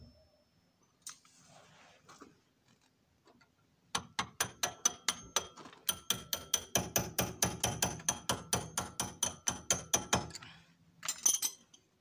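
Hammer blows on the nut of a Citroën C6 suspension arm, a fast run of about thirty sharp metallic strikes in steady rhythm, close and loud, after a few quiet clinks and handling noises.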